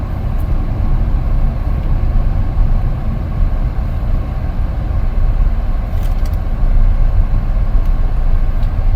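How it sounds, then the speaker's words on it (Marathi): An MG Astor car driving in third gear and slowing, a steady loud low rumble of engine and road noise heard from inside the cabin, continuous with no talk. "गाडी मी टाकतोय थर्ड गिअरमध्ये आणि गाडीची जी स्पीड आहे मी थोडीशी स्लो करतोय"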